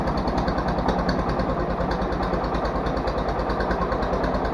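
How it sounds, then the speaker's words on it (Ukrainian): An SF-200 tractor engine idles after a cold start, a steady low, rapid chugging throb with rattling vibration, close and continuous, with no voices. "Холодний запуск. Два місяці до нього ніхто не торкався."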